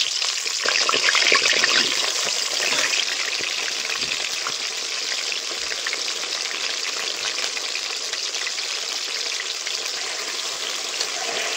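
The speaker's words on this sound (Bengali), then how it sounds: "এবার মাংসের আলুগুলো ভেজে নেব।" Potatoes for a chicken curry sizzle in hot oil on a clay stove, a steady loud hiss that continues throughout with no talking.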